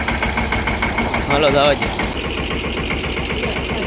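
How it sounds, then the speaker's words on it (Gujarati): A tractor engine runs steadily and close by while manure is unloaded at a home, a constant low rumble with voices talking over it. "ટ્રેક્ટર ઠલવાય છે મિત્રો ઘરે આપણા પૈણાનું."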